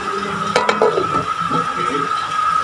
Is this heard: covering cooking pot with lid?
yes